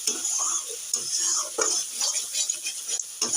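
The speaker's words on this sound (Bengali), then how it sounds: "এবারে দিচ্ছি লাল লঙ্কা গুঁড়ো। এবারে মশলাটা আমি কষিয়ে নেব।" Spice paste with red chilli powder and garam masala frying in oil in a pan, sizzling steadily while a spoon stirs and scrapes in repeated strokes, close and clear, with no voices.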